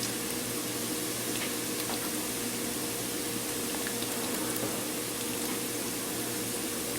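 Cumin seeds frying in hot oil for a chicken curry, giving a constant close sizzling hiss that stays even throughout, with faint pops and no voices.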